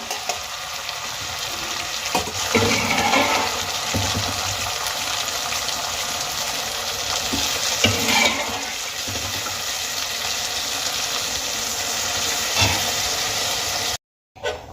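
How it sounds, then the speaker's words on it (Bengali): Boiled mung dal is stirred into fish heads frying in a pan, giving a steady close sizzle and hiss with occasional spoon scrapes and stirring strokes throughout. "এবার আমি এর মধ্যে দিয়ে দেবো আগে থেকে সেদ্ধ করে রাখা মুগ ডাল"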